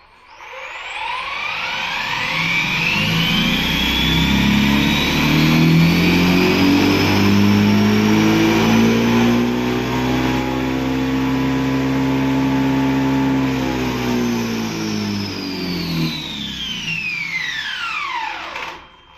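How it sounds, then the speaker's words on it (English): Clamped combat robot Obliterator 6 spinning up its heavy weapon, a loud rising whine that climbs steadily in pitch, holds at a sustained roar for several seconds, then winds back down near the end. "the weapon spun up for the first time"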